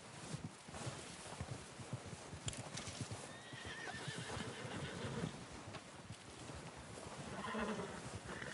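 In a video game, a horse whinnies amid steady hoofbeats clip-clopping, with a busy, continuous game-like background throughout.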